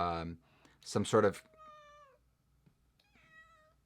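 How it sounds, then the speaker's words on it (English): A domestic cat meows several times, close and clear, with a short human voice near the start and quiet pauses between the calls. "Cats."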